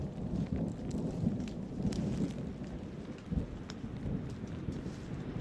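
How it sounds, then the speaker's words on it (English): Distant thunder from a storm around a wooded area in the Appalachians, low rolling rumbles beneath steady rain-like background noise, with a few sharper cracks. "Unfortunately, we have a storm around us somewhere, so I'm hearing thunder."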